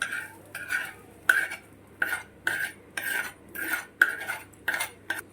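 A utensil stirs fried tempering and dals into cooled rice for jackfruit pulihora, scraping the vessel in regular strokes about twice a second, close and clear, with no voices.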